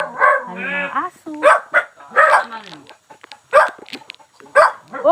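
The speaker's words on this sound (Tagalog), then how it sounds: "may mga aso." Several dogs bark and yip around a rural mountain house, sharp repeated barks and a whining howl coming in bursts at close range, with people talking among them.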